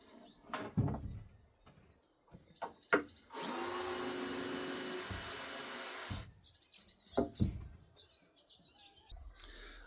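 A power drill backs out screws in one steady whir of about three seconds. Around it are clicks, handling knocks and birds chirping nearby outdoors.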